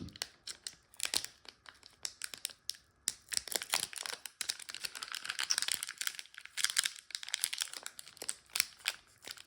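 The foil wrapper of an Avatar collector booster pack of trading cards is torn open from the top, giving close, irregular crinkling and ripping bursts of plastic rustle with brief pauses between them.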